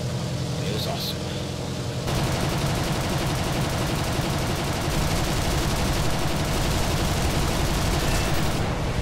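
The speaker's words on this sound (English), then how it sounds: "I tried to shoot my rockets at him" Rockets launched from an aircraft in War Thunder, a dense, continuous roar of firing and explosions sustained at close range throughout, with a brief quieter stretch at the start before the barrage intensifies.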